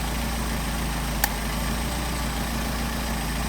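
A car engine idles on a pair of Solex 44PHH carburetors with the throttle linkage connected, a steady, even low rumble that holds for several seconds, with one brief faint click partway through.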